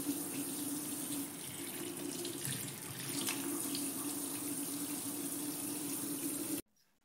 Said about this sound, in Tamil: நேரடியாக பைப்பில் வச்சா கூட தண்ணி அப்படியே எல்லாம் கீழே ஊற்றிடும்.